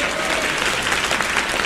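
Crowd at a Salvatore Adamo concert in Montreux claps for the accompanying musicians, a brief, dense, steady burst of applause heard from within the audience, with a faint voice mixed in.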